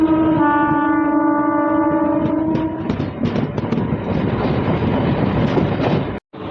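A MEMU passenger train on the Sainthia–Andal line runs into Panchra station: loud, close, steady rail rumble and clatter, with a sustained tonal whine at the start that fades into the rolling noise.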